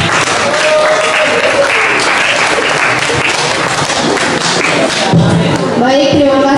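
An audience at a high school presentation session applauds, with dense, sustained clapping and a few thuds, while a voice speaks over it.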